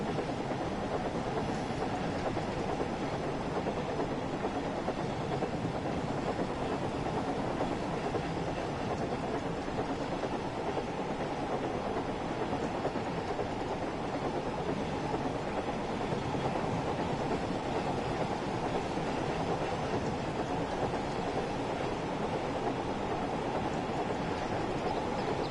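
A steam locomotive runs in Train Sim World 5, making a continuous, even rumble with a rolling rail clatter at a steady level and no talking.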